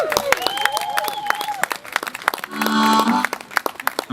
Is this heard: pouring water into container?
no